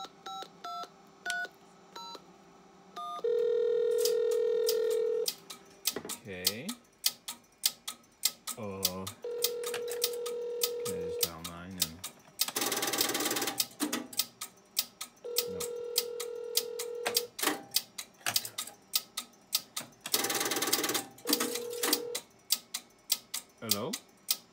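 Strowger PABX telephone exchange line being dialed, with bursts of dialing pulses, steady tones and relay clicks repeating over about twenty-five seconds, heard close.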